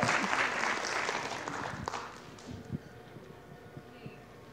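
Audience applause at a college electronic music concert, dense clapping that fades out over a few seconds, leaving scattered claps and room noise.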